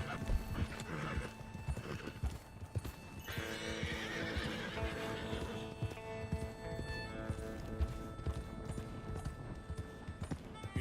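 Horses whinny and their hooves clip-clop steadily in Red Dead Redemption 2, a continuous moderate bed of hoofbeats with neighs rising above it and no talk.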